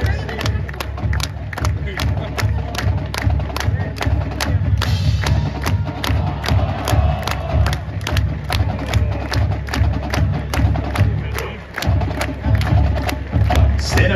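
A stadium crowd roars at an Ohio Bobcats football pregame against Miami, with the Ohio University Marching 110 band playing. The crowd noise is loud and continuous, with steady, rhythmic drum thumps throughout.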